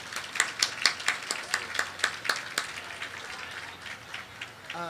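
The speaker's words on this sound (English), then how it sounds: "A round of applause," Small audience at a book festival main stage giving a light round of applause, distinct separate claps at first that thin out and fade within a few seconds.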